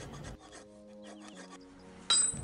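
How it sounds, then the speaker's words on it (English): A wood rasp files rough saw-cut wood while a foot-powered treadle hammer is being built, giving a few brief rasping strokes followed by quieter tonal ringing and a sharp louder scrape near the end. "I had to go back and clean everything up with a wood rasp"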